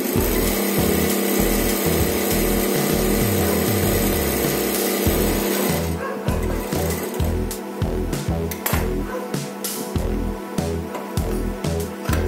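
A sewing machine double-stitches a tie in rapid rhythmic bursts, running steadily at first and then in shorter stop-and-start runs, close and fairly loud.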